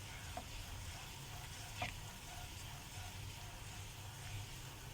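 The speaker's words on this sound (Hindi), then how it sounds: "इसको भी सौते कर लेंगे। अच्छे से चलाएं ताकि कहीं भी कोई गुठली ना पड़ जाए कॉर्नफ्लावर की।" A cornflour mixture sautéing in a pan gives a faint, steady sizzle while it is stirred, with a few soft knocks and no talking.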